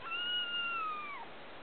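Baby boy kitten crying while held up to be measured, a single close, high-pitched meow lasting about a second that slides downward at the end.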